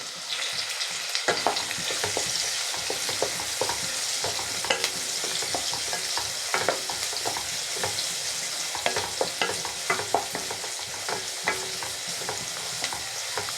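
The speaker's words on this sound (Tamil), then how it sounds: "வெங்காயம் நல்லா வதங்கட்டும்." Steady sizzling of onions frying in hot oil for Tamil-style tomato kochi, with occasional scrapes and clinks of a stirring spoon against the pan.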